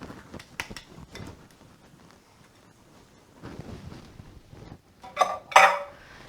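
Celery and onion stirred into melted butter in a pan for homemade sausage and cornbread dressing, with a spoon scraping and clinking against the pan in scattered light strokes, then a couple of louder knocks near the end.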